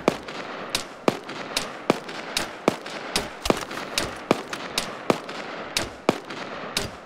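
Gunshots in a zombie video game, a steady series of sharp single reports roughly every half second, loud and close, each crack followed by a brief rumbling tail.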